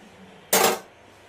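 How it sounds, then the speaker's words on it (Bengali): Water poured into a pot of Bengali fish curry with potatoes, a single short, loud splashing rush that cuts off quickly against a quiet kitchen background, with no talking. "জলটা দিয়ে দিচ্ছি।"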